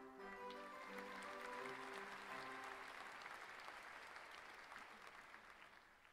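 Applause from a theatre audience in the horror dating game Sucker For Love, a full crowd clapping loudly throughout, gradually fading toward the end, with musical tones sounding briefly at the start.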